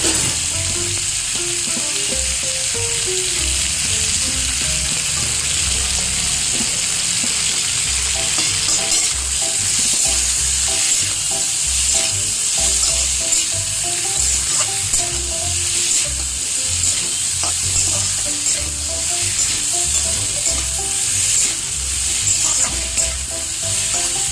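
Ginger stirred and fried in a pan for a homestyle fish curry with vegetables, a steady loud sizzle with scraping stir strokes running throughout, no voices.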